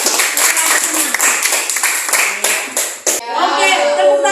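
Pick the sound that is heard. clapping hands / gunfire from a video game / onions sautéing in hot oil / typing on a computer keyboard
clapping hands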